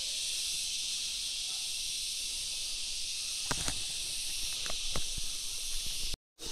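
Crickets chirp outdoors at night in a dense, continuous high shrill that fills the background, with a few faint knocks or footsteps partway through and a brief dropout near the end.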